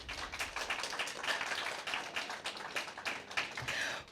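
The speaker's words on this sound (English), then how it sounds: "A round of applause." Audience at an inter-secondary school debate applauding after a presentation, a quick burst of scattered clapping that stays moderate for a few seconds.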